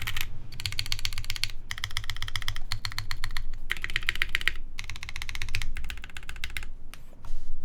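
Typing on a Geonworks F1-8X mechanical keyboard with a hotspot PCB, heard as fast, close, crisp key clicks in dense bursts, broken by short pauses, with no talk.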